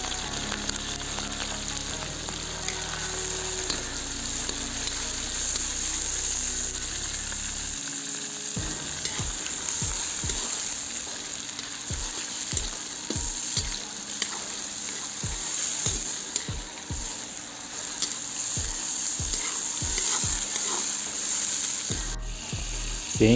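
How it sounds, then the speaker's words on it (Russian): Meat hitting hot vegetable oil in a kazan over a wood fire, at full heat, with a loud steady sizzle and crackle and repeated scraping stir sounds. No voices. "Масло накалилось, теперь опускаем в казан мясо."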